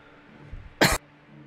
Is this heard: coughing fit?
yes